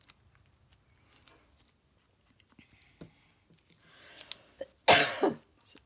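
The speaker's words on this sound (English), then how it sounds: "like I'm coughing into the air because I can't cover my mouth" A person wearing gloves coughs into the open air without covering their mouth, with a few faint scattered sounds before one loud, close, harsh cough burst near the end.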